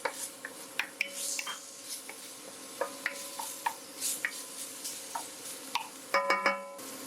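A spoon scrapes and clinks against a pot as bacon cooks for gumbo, with irregular light knocks and a faint sizzle underneath, ending in a louder cluster of metallic clatter.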